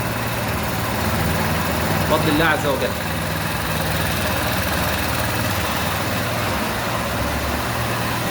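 A scooter engine idles with a steady low rumble throughout, while someone speaks briefly over it.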